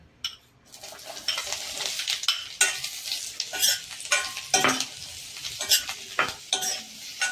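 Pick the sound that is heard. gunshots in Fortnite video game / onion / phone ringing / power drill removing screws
onion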